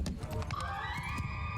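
Horses running in Mount & Blade II: Bannerlord as horse archers and cavalry advance on a steppe battlefield, a dense, steady rumble of hooves with a whinny rising over it, loud and continuous throughout.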